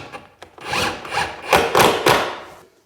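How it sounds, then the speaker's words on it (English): A screw driven into a wooden door lining, heard as a few close grinding, rubbing bursts of driving through timber, rising and pausing in short pulses before stopping. "Just wind a screw in."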